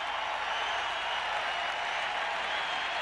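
Crowd in the Forum arena before game six of the 1987 NBA Finals, a steady, dense wash of applause and crowd noise that holds evenly throughout without a break.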